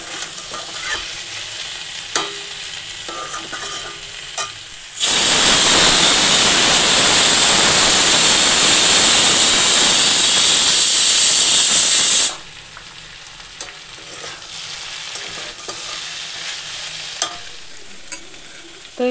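Bengali vegetable chorchori sizzling in a pan with light stirring taps, drowned midway by a loud, steady steam hiss lasting about seven seconds from a nearby pressure cooker of dal, then soft frying again.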